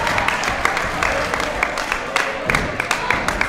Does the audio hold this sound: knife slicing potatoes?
no